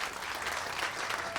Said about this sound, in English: But a round of applause for all of our veterans who are here today,